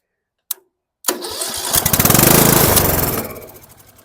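A 2005 Murray Select riding mower with several faults is started with the choke partly off: a short click, then the small engine cranks and catches, running loud and rough for about two seconds before tailing off.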